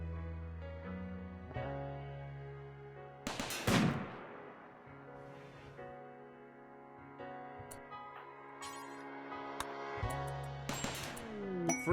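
Gunfire in RimWorld cracks out as one sharp loud shot and a second near the end, with a few fainter pops between, all over soft sustained background music.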